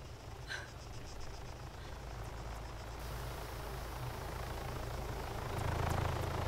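Steady mechanical drone of a helicopter in the game ARMA 3, a continuous low rumble that holds throughout and grows slightly louder toward the end, with no voices.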